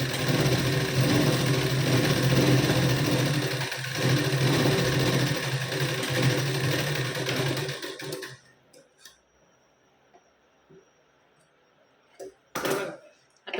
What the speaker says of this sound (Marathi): आपण आता यावर डबल शिलाई देऊन घेऊ